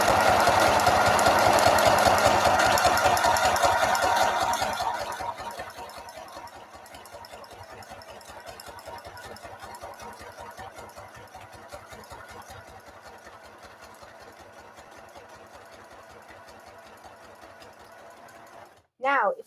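A sewing machine stitches a scrapbook page, a fast, loud mechanical rattle for the first few seconds that then gives way to a quieter, rhythmic clatter, ending with a short burst of voice.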